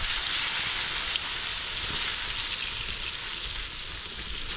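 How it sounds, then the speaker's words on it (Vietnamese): Potato cakes frying in a pan of hot oil, a steady loud sizzle and crackle holding evenly throughout with no talking. "bây giờ cho bánh vào rán nha các bạn"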